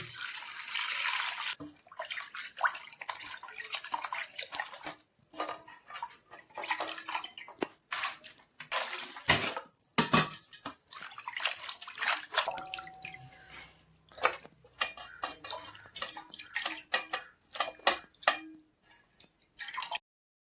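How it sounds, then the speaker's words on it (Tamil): Raw chicken pieces washed by hand under a running tap for pepper chicken, with water splashing and dripping in irregular bursts, close and moderately loud, broken by brief pauses. "கறி நல்லா கழுவி எடுத்துக்கலாம்."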